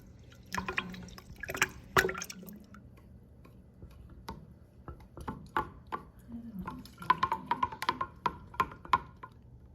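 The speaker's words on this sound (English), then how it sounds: "then we'll start to add some more warm water." Warm water poured and dripped into honey for mead while the mixture is stirred, giving soft splashes, drips and light clinks over several seconds at close range, with no talk.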